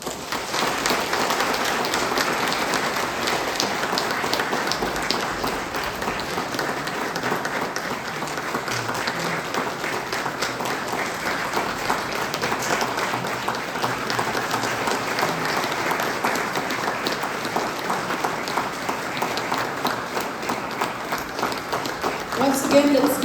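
Commencement ceremony audience applauding, a sustained, even wash of many hands clapping in a large hall that holds steady for a long stretch.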